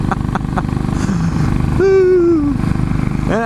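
A Royal Enfield motorcycle thumps along, then winds up with a loud rising rev that falls away and climbs again, close by and throaty.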